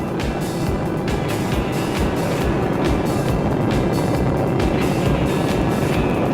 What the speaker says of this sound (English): Liftoff of Shuttle Discovery.